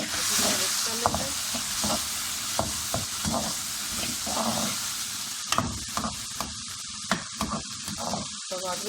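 Tomatoes and chili sizzle in a frying pan while a spoon stirs, giving a steady hiss broken by repeated scraping and tapping strokes at an irregular rhythm.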